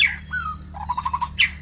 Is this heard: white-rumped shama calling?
yes